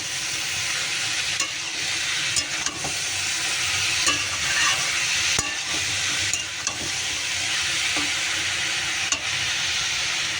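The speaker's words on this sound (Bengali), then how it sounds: "এবার এটাকে সুন্দর করে শুধু নাড়বো নেড়ে ভাজা ভাজা করবো" Vegetables stir-fry in a pan with a continuous hissing sizzle, while a spatula scrapes and taps against the pan at irregular moments, heard up close without talk.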